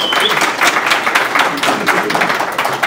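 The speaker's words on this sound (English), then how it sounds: "One more round of applause for Jim Kittle from The Ohio State University." Conference audience applauding a university speaker after a talk, a steady burst of many hands clapping close by, dense and continuous with no voices over it.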